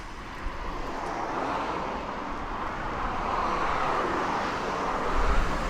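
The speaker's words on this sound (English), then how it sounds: "US Air Force, C-130 just took off nearby" Nearby US Air Force C-130 taking off, a steady broad engine roar that holds throughout and swells slightly toward the end, with no talking.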